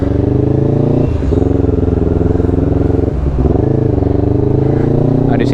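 A Honda CBR 250RR motorcycle engine runs steadily at idle close by, a loud, even multi-cylinder hum with two brief dips in the rumble.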